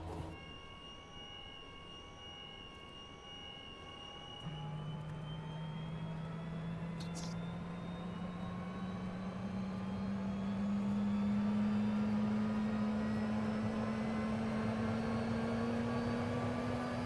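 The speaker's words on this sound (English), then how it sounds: "I've never listened to that engine start up outside. That sounds awesome." Number one engine of an airliner starts up in Microsoft Flight Simulator 2020, heard from outside the aircraft, its whine rising steadily in pitch and loudness as it spools up over a constant background rumble, with no speech.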